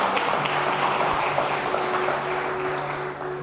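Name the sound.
church congregation applauding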